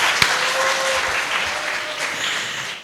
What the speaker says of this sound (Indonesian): Tepuk tangan dong bagi panitia dan LF Penjara 1.